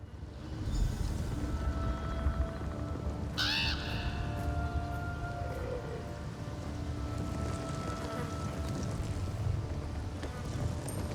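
A single crow caws once in the Bangkorai zone of the video game Elder Scrolls Online. The caw is fairly faint and set against a steady buzzing, insect-like outdoor ambience that continues throughout.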